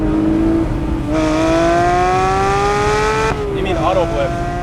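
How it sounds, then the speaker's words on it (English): Porsche 911 Speedster GT3 engine holding a steady rising tone, then a sharp rev-matched blip as it downshifts to second gear, loud and close, with a voice talking over part of it. "Blip shift down to second."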